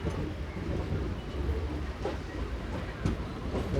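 A MEMU commuter train approaching Vijayawada rolls along with a continuous low rumble and soft rhythmic wheel clatter, heard fairly quietly from inside the carriage.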